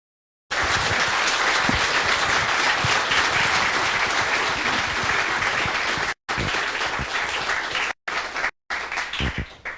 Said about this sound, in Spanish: que le demos un muy fuerte aplauso al doctor